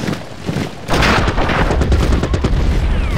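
Heavy artillery bombardment booms in the World War I strategy game Commander the Great War, starting with a low rumble before a loud, sustained wave of blasts and crackling impacts.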